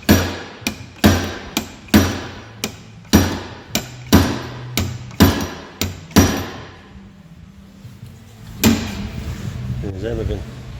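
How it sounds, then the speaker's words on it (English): A slide hammer is worked on a VC Brock car build: about a dozen hard metallic impacts at a steady rhythm, each ringing briefly, then the blows stop and a voice talks amid workshop noise. "we had to reuse the slide hammer"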